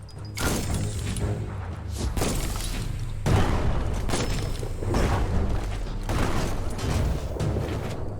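Loud, dense rumbling booms and thuds from bomb lobber explosions in the action game Biomutant roll on continuously, with several sharper blasts breaking through a heavy low-end roar.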